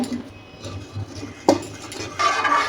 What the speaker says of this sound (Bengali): এটা ভালো করে লাড়াচাড়া করে নেবেন